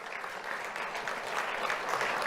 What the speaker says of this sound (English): Let's have a round of applause for Ruben Isidoro Chavez.